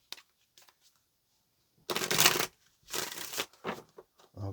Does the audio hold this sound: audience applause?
no